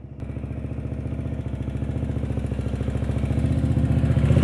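A motorcycle engine chugs in a fast, even pulse during slow-speed riding practice, close and loud, gradually growing a little stronger as the bike creeps along with no one talking.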